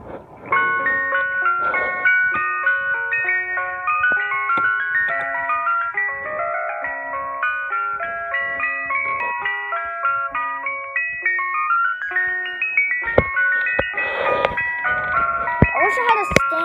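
A toy or model ice cream truck plays its jingle: a bright, chiming electronic melody repeating steadily and fairly loud, with a few clicks and handling noises near the end.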